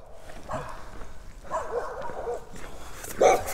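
Several dogs bark and yip near the listener along a wooded backpacking trail with dead bamboo, short bursts in a loose rhythm, with some whimpering mixed in.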